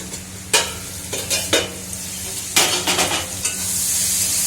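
Vegetables, cauliflower among them, fry in a pan under a steady sizzle, broken by several sharp scraping stir strokes in quick bursts, with no one speaking.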